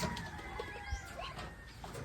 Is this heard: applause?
no